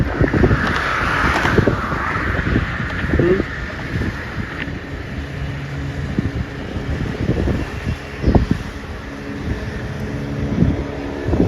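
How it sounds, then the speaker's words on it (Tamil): A boat moves across the lake at the Muttukadu boat house on ECR, its low rumbling drone running steadily beneath heavy wind buffeting, with occasional knocks and no clear speech. "ஒரு போடு சவாரி ஒன்று வருது பார்த்தீங்களா ஒரு போடு வருது பார்த்தீங்களா"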